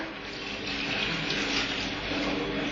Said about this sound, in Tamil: இப்போ பாத்தீங்கன்னா நான் தண்ணியை ஊத்த போறேன்